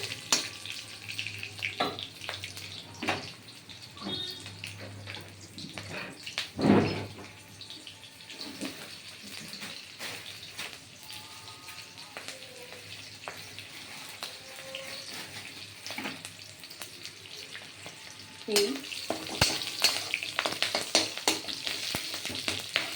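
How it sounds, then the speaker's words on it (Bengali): Green chilies and panch phoron five-spice frying in hot oil for a vegetarian bottle-gourd dish: a steady crackling sizzle broken by scraping and clattering strokes, swelling louder toward the end. "এই কাঁচা লঙ্কার পাঁচফোড়নটা একটু ভাজা ভাজা হবে"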